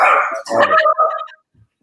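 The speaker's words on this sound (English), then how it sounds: "oh, my dog is barking now" A pet dog barks and growls nearby in a loud, rough burst of several overlapping barks lasting over a second, then stops and leaves near silence.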